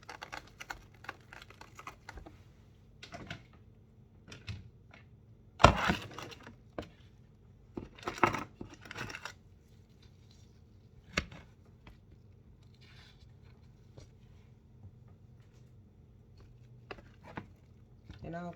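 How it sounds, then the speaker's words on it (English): A knife cuts mushrooms in halves on a cutting board, sparse sharp knocks at irregular intervals, with a few quiet stretches between them. "I'm just cutting them in halves right now."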